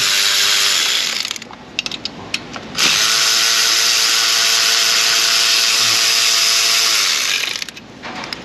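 A ratchet with a 10mm socket clicks away on a Silverado 5.3 engine while someone lies across the radiator support. The rapid pawl chatter runs steadily, pauses briefly, then continues up close and loud for several seconds.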